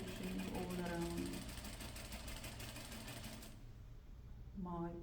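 Sewing machine stitching around a patch pocket, a rapid steady mechanical whir with regular needle beats, close and moderately loud, broken by a brief pause before resuming, with a voice over part of it.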